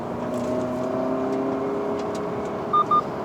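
A car accelerating on the Inje race circuit during a driving school track session, a steady engine drone with a rising tonal whine, moderately close and continuous.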